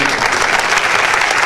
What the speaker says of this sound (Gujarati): તાળી વગાડી બધા અનુભવી